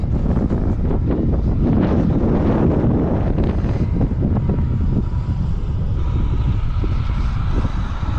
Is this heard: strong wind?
yes